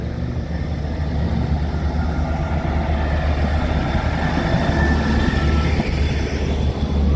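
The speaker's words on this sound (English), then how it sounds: "the train I was just on looks like it might just be about to go. Bye bye GWR train" A GWR passenger train pulls out of Axminster station, a loud continuous rumble and drone of engine and wheels heard close by, steady throughout with no voices.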